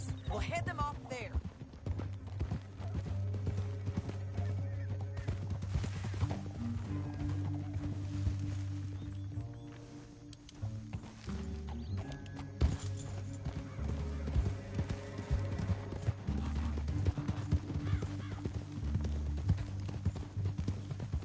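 Rhythmic clip-clop of horse hooves in the video game Red Dead Redemption 2 runs throughout beneath a sustained orchestral music score, with occasional whinnying.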